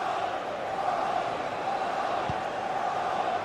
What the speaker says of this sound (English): The crowd are certainly playing their part.